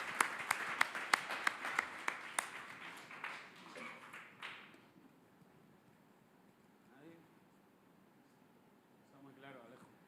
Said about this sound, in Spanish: si os parece, un pequeño aplauso y pasamos a las preguntas